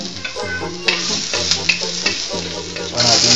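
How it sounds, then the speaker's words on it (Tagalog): Garlic sautéing in a pan as the first step of a miso sinigang with fish head, radish and tomato: a steady, close sizzle with repeated scraping stirs that brighten near the end. "Unahin natin igisa yung bawang."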